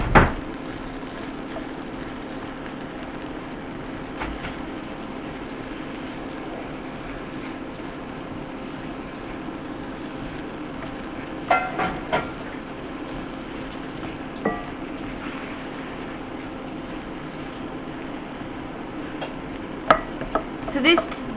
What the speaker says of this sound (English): now we're going to add our onion, and we're just going to cook this down